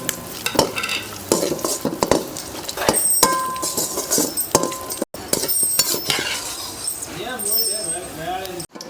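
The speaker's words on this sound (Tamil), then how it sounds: "நெய்யில் முந்திரி திராட்சையை வறுத்து எடுத்துக்கலாம்." Cashews and raisins roasting in ghee in a pan for dhal laddoo, with frequent stirring scrapes, clinks of a spoon against metal and a steady sizzle running throughout, close and fairly loud.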